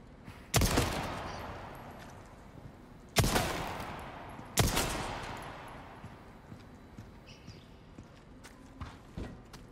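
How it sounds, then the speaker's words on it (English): Three sharp gunshots from a handgun aimed at rats in the Resident Evil 4 Remake video game, each loud and followed by a decaying echo, spaced a few seconds apart, then faint scattered taps. "Apparently, I need to shoot the rats."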